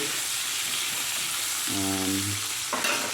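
Butter sizzles in a pan while steak cooks, with a constant loud frying hiss, a brief humming tone in the middle and a sharper burst of sizzle near the end.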